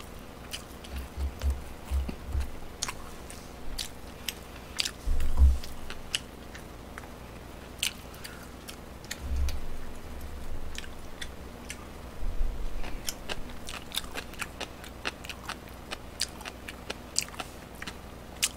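Pork trotters and fried chicken being eaten at a Suncheon restaurant: intermittent close crunching and biting clicks with soft chewing between, fairly quiet and scattered, no talking.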